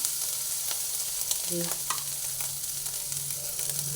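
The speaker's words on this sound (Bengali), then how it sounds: "তেলের মধ্যে অল্প পরিমাণে আদা দিয়ে দিলাম আদাটা অল্প করে একটু ভেজে নিচ্ছি" Ginger fries in a small amount of hot oil in a pan, giving a steady close sizzle with a few soft scraping stirs and faint clinks, with no voices.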